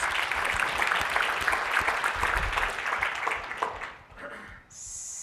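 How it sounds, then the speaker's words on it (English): A conference audience applauds the event's sponsors, a dense sustained wash of clapping filling the room that thins and fades out toward the end. "So one round of applause for the sponsors of this conference."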